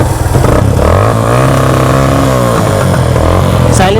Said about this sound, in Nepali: आमा बाइक त खत्रै पड्किँदो रहेछ